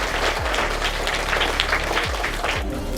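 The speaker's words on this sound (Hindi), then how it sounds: "छात्र और हमारी जो दूसरी छात्रा हैं उनके लिए भी आप एक बार तालियां बजाइए।" Loud, dense applause from the audience at a college student competition, continuous clapping filling the space with a steady low hum running underneath.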